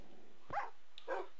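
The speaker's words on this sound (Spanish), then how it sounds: "¿Qué le pasa al perro ese, tío?" Two short barks from a dog in a Resident Evil mod of Minecraft, spaced about half a second apart, moderately close and alone against a quiet game background.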